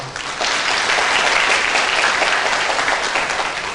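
A large crowd at a Buddhist Dhamma talk claps loudly and steadily for several seconds, a dense, sustained round of applause with no one talking.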